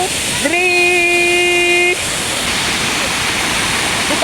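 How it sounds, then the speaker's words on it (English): Continuous loud rushing of a waterfall, a dense steady roar that runs the full length, with a voice speaking briefly over it near the start. "Guys, we have arrived at the waterfall."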